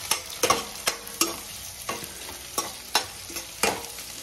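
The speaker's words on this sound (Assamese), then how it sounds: "তো অনিয়নটো ভালকৈ ভাজি লওক" Onion frying in a pan while a large spoon stirs it, with about ten regular, sharp scraping strokes ringing out over a continuous close sizzle.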